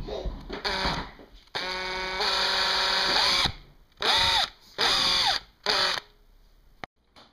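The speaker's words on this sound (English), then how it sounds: "pre-drill my holes for the screws" A power drill pre-drilling screw holes whirs in several bursts, with one long sustained run followed by shorter revving pulses and brief silent gaps between them.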